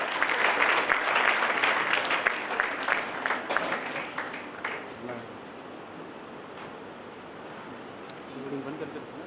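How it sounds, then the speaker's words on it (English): An audience at the BICON 2015 conference gives loud, sustained applause that swells and then thins out over several seconds, followed by quieter room sound and a voice. "Please give them a huge round of applause."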